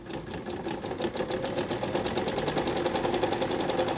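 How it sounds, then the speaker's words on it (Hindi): A sewing machine stitches fabric with a close, fast, steady mechanical clatter that builds into an even rhythmic run. "सिलाई हमने मशीन के ऊपर लगानी है"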